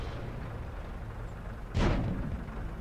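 A single tank cannon shot in World of Tanks gameplay, one sharp booming blast partway through over a steady low rumble of engine and battlefield ambience.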